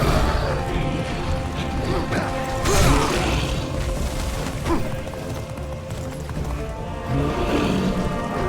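A horse in the video game Castlevania: Lords of Shadow, with hoof clatter, whinnies and crashing effects in a dense, continuous game mix lasting several seconds.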